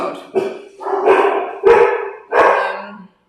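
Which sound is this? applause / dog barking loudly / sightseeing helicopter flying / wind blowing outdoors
dog barking loudly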